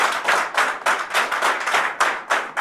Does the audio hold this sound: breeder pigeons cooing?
no